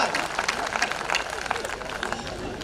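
Applause from the audience at a Hindi comedy poetry show, a steady wash of many hands clapping in a hall, moderately loud and continuous throughout.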